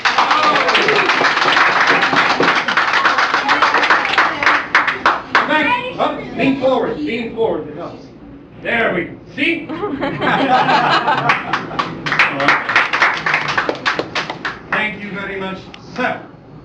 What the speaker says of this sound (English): So let's give Guy one huge round of applause!